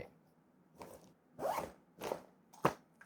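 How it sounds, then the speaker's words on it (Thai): The two-way zipper on the front of an EVERGOODS CIVIC Access Sling 2L bag is pulled open in four short, crisp, close rasps separated by brief pauses. "ตรงบริเวณด้านหน้าช่องหลักก็จะเป็นซิป2ทางแบบนี้สามารถลูดเปิดออกด้านข้างแบบนี้"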